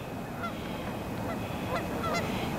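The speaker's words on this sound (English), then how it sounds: "like these geese" Geese honk repeatedly over a constant rushing background in a cold winter coulee, several nasal calls overlapping at moderate distance, with no voices.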